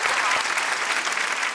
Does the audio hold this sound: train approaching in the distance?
no